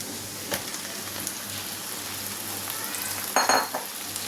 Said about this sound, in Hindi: चलिए अब हम इसमें मैरिनेट करी हुई भिंडी इसमें डाल देते हैं।